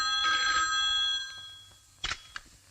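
An old-style telephone bell rings once in a long electric trill, then fades, followed by a couple of sharp clicks, close by and alone.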